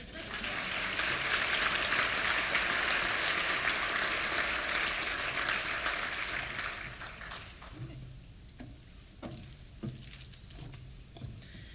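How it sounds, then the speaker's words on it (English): An audience at a regional chamber awards ceremony claps in a sustained ovation. The dense clatter holds loud for about six seconds, then thins to scattered claps and fades out. "Now can we have a round of applause?"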